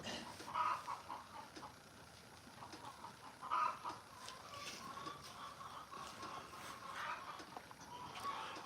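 A hen clucks faintly at a ranch, a few soft, low calls spaced several seconds apart over a hissy, distant background.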